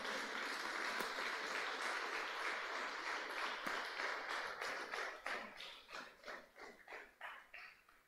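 A church congregation applauds the Lord after a Spanish-language sermon, a dense wash of claps that grows sparser and breaks into distinct rhythmic bursts as it winds down.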